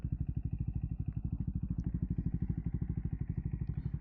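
A 2024 Triumph Scrambler 400X single-cylinder motorcycle engine idles close by, a steady, rapid thumping pulse with a slight clatter, running alone throughout with no talk.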